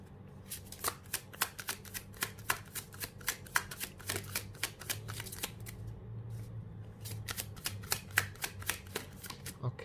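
Tarot cards shuffled by hand in quick repeated riffling bursts, crisp close papery flicks with brief pauses between runs, recorded quietly.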